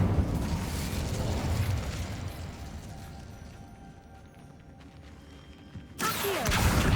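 An Incendio fire spell cast in the video game Hogwarts Legacy bursts with a loud roaring blast that slowly fades into a low rumble, followed by a second sudden, sharp burst near the end.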